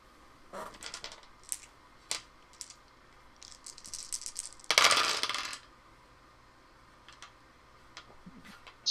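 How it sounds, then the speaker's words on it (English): A few dice, about two or three, rattle and clatter onto a table during a tabletop role-playing game session, with a dense burst near the middle among scattered light clicks and taps, fairly close and with no talk. "It sounded like 2 or 3 dice."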